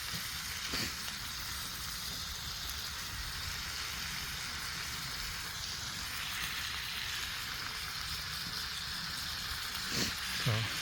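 Cut peppers and onions frying in a pan over heat outdoors, a steady quiet sizzle throughout with a few brief stirring clicks near the start and end.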